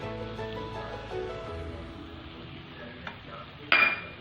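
A spoon stirs ground raw peanuts into masala in a pan for Maharashtrian pitla, a soft continuous scraping with a light sizzle and a brief metallic clink at the end.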